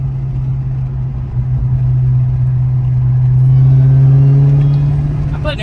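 A 900hp Jeep Grand Cherokee Trackhawk on street tires accelerates hard, its engine drone rising steadily in pitch as it pulls. The sound is loud and continuous from close by inside the vehicle.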